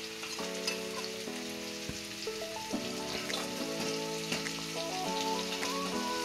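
Chicken liver fries in hot oil with a steady crackling sizzle and occasional stirring, under soft background music.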